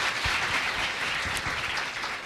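Audience applause for a secondary school team at a schools competition final, a dense, even wash of many hands clapping at moderate level from start to end.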